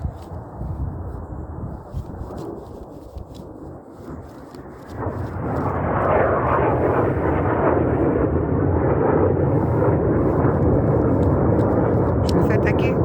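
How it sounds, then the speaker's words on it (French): A fighter jet roars overhead, its broad rumbling noise swelling from a quieter start to a loud, sustained rush. "C'est un avion de chasse, il sert à rien en fait."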